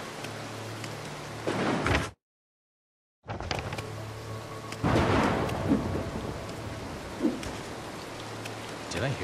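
A storm in the stealth video game Mark of the Ninja Remastered: steady rain with heavy rolling thunder, broken by a brief total silence, then the rain and a second strong thunder rumble return.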